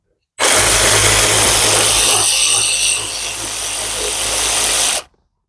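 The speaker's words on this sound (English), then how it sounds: "So we'll go ahead and get these 2 bolts off." A power tool, likely an electric ratchet or impact driver, runs steadily for about four and a half seconds, loosening two 10 mm bolts on the ignition switch bracket of a 2000–2005 Chevy Impala, up close and loud.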